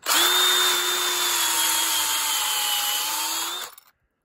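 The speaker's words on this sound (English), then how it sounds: "We'll pull a drill out here and" A power drill whirs steadily at high speed for several seconds close up, boring a tap hole into a maple tree, then spins down and stops, leaving silence.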